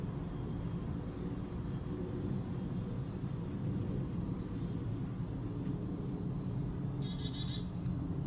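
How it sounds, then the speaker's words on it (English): Birds call now and then over a steady outdoor rumble, with a couple of thin high chirps standing out faintly against the background. "You hear all the bird activity."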